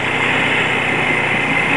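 An underbone motorcycle engine in second gear revs hard with a steady, high-pitched buzzing whine, loud and close, holding constant throughout with no voices.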